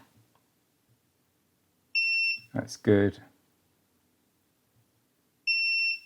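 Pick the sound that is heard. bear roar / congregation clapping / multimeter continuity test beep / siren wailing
multimeter continuity test beep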